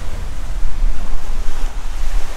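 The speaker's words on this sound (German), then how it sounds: "wenn da nicht die Wellen so dolle sind und der Wind nicht so" Strong waves break and surge on the Norwegian coast while gusting wind buffets the microphone, making a loud, continuous roar with no voices.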